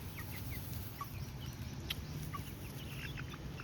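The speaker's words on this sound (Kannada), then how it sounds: "ಇಲ್ಲಿ ನಾಟಿ ಕೋಳಿ ಹೆಂಗೆ ಮಲಗಿದ್ದಾವೆ" Native country chickens resting by a forest roadside give soft scattered clucks and chirps over a steady low rumble, faint and fairly close, with no talking.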